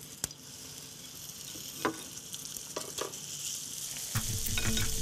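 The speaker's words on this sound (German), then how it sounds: "Und der Burger brutzelt." A beef burger frying in a pan, with a steady close sizzle, a few soft clinks and stirring scrapes, and a louder, denser crackle near the end.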